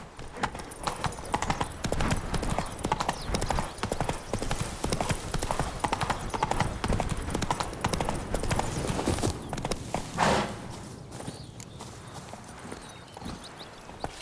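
Horse hooves galloping in The Witcher 3, a rapid, steady clip-clop rhythm near and fairly loud, with a brief snort or whinny toward the end before the hoofbeats fade.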